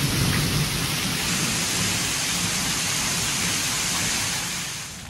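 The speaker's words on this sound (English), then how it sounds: "That's some crazy rain." Heavy rain pours down in a steady, dense roar, loud and close, with no voices over it.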